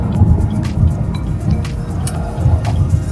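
A 2021 Chevy Trailblazer with a 1.3-liter turbo engine driving in sport mode, a steady low engine and road drone heard from inside the cabin with no talking.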